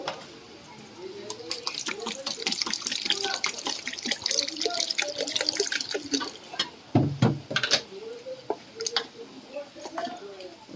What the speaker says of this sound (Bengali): এবারে একটু জল দেব